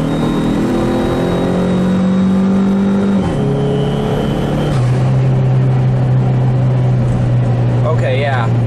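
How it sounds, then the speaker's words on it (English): Chrysler PT Cruiser GT with race motor mounts pulling hard in second gear, engine note climbing steadily with a brief dip and rise as revs build, loud from inside the cabin with a voice speaking over it. "we are gonna do a little bit of a pull here in second gear"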